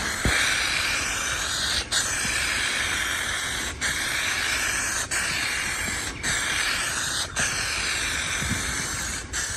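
Continuous hiss of a spray can painting a car part black on a 1968 Mustang, close and steady, broken by several brief pauses across the clip.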